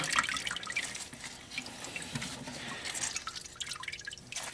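Water drips and trickles from wild fur pelts being wrung out by hand; close, irregular splashing drips with bursts of running water, no voices.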